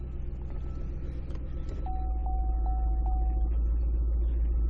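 A 2016 Holden Commodore automatic starts with a brief whirring crank, then settles into a smooth, steady low idle with a faint chime sounding several times while it runs.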